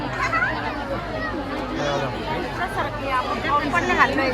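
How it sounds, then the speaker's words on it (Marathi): A dense crowd mills around a busy temple village of Kubera, with many overlapping voices forming a steady, close babble that continues throughout. "कुबेरच्या गावाला कधी पण या गर्दीच राहते"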